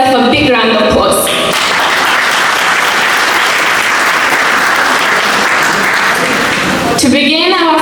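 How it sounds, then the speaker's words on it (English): An audience at a formal community evening in Melbourne, Australia, breaks into a long, loud, dense round of applause that swells and holds for several seconds, with a voice talking briefly before and after. "Please give yourself a big round of applause."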